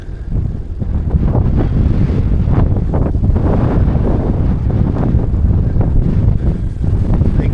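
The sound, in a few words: headwind blowing on microphone during bike ride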